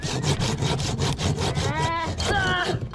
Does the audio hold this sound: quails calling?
no